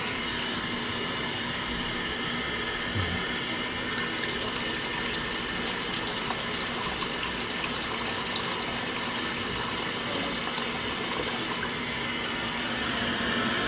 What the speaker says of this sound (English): And the hot water's coming through warm as well.